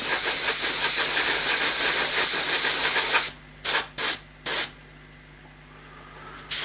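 An aerosol spray can hisses continuously over a model boat, then releases several short bursts separated by brief pauses, close and loud.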